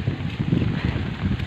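Strong gusting typhoon wind buffets the microphone in low, uneven rumbling bursts beside a highway, loud and close.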